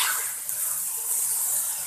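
Water running steadily from a tap, a continuous close hiss and splash with no break and no talking, in a home kitchen while chicken and shrimp bas-oy is being cooked.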